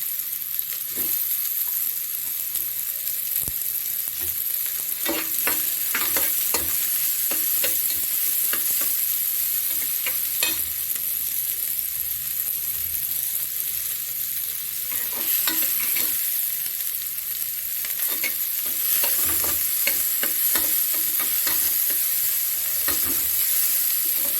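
Onions and green chillies frying in hot oil for a chicken donne biryani, a continuous loud sizzle close by, broken by repeated clinking and scraping stirs of a utensil in the pan.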